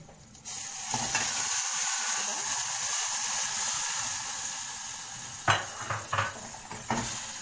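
A ladle of tomato sauce hits hot frying garlic in a pan for Egyptian koshari, giving a steady loud sizzle and hiss, then a few scraping stirs near the end.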